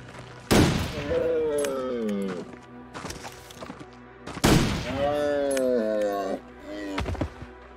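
Gunshots ring out while hunting animals in the video game Pilgrim Survival, two sharp loud blasts a few seconds apart, each followed by a falling, wailing animal-like cry, with lighter thuds and clicks between.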